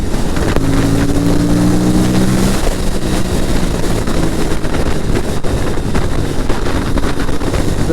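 Close, constant roar of an Aprilia RS457 motorcycle on the road, engine tone rising briefly then buried under heavy, buffeting wind rush.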